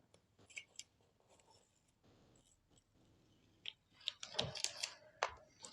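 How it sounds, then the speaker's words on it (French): Masking tape peeled from around the edges of a simple beginner's landscape painting on recycled paper, heard as a few soft tearing strips and rustles, quiet at first and then a louder cluster of ripping near the end. "Là, je vais enlever le scotch"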